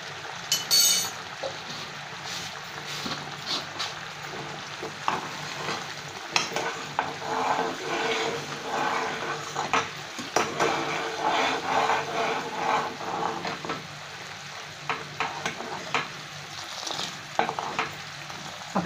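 Indian gooseberries bubbling in thickening cardamom-spiced sugar syrup, a continuous close sizzle and bubbling with frequent spoon scrapes and clinks as the pot is stirred, no one talking.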